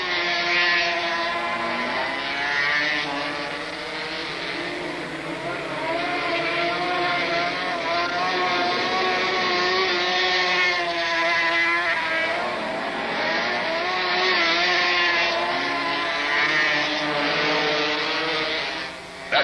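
Speedway motorcycles race around the Daytona short track in 1971, a loud sustained high-pitched engine whine that rises and falls in waves as bikes circle past, with no speech over it.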